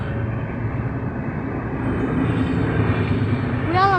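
A passing train makes a loud, steady rumble that holds throughout, rising slightly toward the end with a brief tonal whine.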